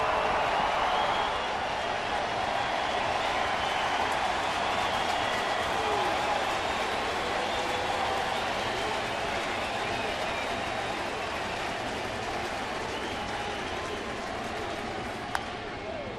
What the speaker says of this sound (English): Crowd very excited here in the Cardinals' 6th inning, hoping for more.